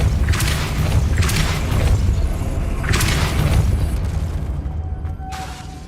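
Depulso spell cast in the Hogwarts Legacy video game: a few loud booming bursts with whooshing, rumbling impacts, followed by a mechanical rattle and a brief tonal hum as the effect fades out.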